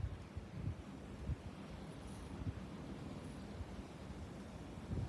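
Steady wind blowing across an open shoreline while fishing, a constant low rumble of buffeting against the microphone with faint rustling, uninterrupted and fairly even throughout.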